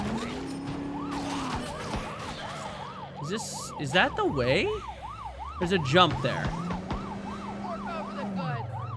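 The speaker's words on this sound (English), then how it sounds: "Oh wow, I can actually put the sirens on." A police car siren in Dead Rising 4 wails in fast, repeated rising and falling sweeps over engine noise, while someone talks now and then.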